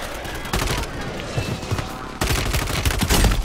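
Enemy gunfire in a video game. Loud, rapid bursts of shots come in two sustained volleys, the second sharper and denser, over steady game noise.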